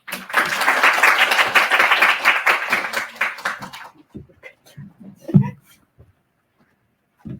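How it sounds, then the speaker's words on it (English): A room of attendees gives a round of applause to welcome a speaker at a technical tutorial. The clapping is dense and fairly close for about four seconds, then drops to a few stray claps and brief voices. "let's give a round of applause"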